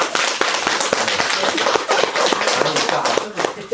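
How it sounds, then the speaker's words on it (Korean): A seminar audience at a Seoul meditation center claps in a brisk, uneven patter of close handclaps, with talk in the background. "이럴 때 박수 쳐야 되는데."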